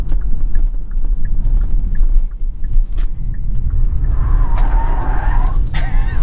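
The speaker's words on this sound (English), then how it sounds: "I'm gonna turn off fake sound so you all can hear the sounds of tire squeal" A 2022 Kia EV6, fake engine sound switched off, squeals its tires during hard driving, a rising screech near the end over loud road and wind rumble.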